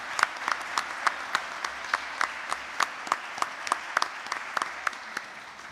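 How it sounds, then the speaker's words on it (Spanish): An audience claps at an award ceremony honoring a comic artist in Buenos Aires. The applause is a steady, moderately loud patter of many hands with faint accents throughout and no talk over it. "un aplauso para ellos también"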